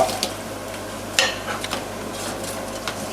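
Croutons stirred in a pan after soaking up melted butter, giving a soft scraping and light sizzle with a sharper utensil knock near the start, close and moderately loud, no talking.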